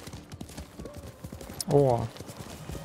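Horse hooves clip-clop steadily in Ghost of Tsushima while someone talks over them, broken midway by a loud, wavering whinny.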